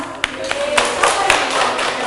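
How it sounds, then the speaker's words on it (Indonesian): Scattered, brief clapping from a classroom group during a micro-teaching lesson, a few separate claps rather than sustained applause, heard over a steady room hiss. "Tepuk tangan dong."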